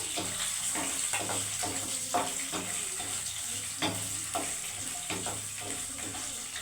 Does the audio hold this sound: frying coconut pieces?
yes